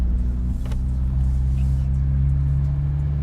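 A stock-clutch Honda Civic Type R with a PERRIN front mount intercooler hums along while driving, a steady low engine drone and road rumble heard from inside the cabin, smooth and unbroken.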